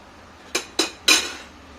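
Three quick metallic clinks ring out close by as a lid is set over a pan of cooking brinjal masala, the last one slightly longer, against a quiet kitchen background.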